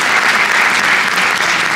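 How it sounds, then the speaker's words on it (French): Film festival audience in a Nîmes cinema applauding, a loud, dense and steady wash of clapping hands that fills the whole moment without any voices. "on peut applaudir Évrard Zaouche."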